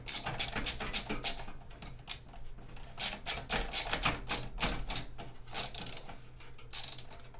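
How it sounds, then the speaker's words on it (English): A ratcheting screwdriver drives screws while a PC is assembled, giving rapid, crisp clicking in quick bursts with short pauses between runs, close and fairly quiet. "It's a ratcheting screwdriver."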